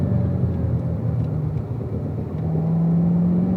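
Race car accelerating out of a corner on a track, a steady whirring engine tone that rises in pitch toward the end, moderately loud and heard from inside the car.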